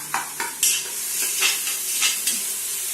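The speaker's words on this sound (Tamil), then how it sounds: "ஸோ நல்லா வதக்கிட்டு இருக்கோம் பாருங்கள்" Chicken biryani is stirred and sautéed in a pan, with a steady sizzle and repeated scraping strokes of a spoon against the metal, close up and without talking.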